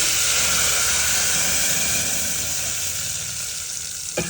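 Cumin seeds frying in hot oil, a dense, even crackling sizzle heard close up and alone, easing slightly toward the end before a brief knock.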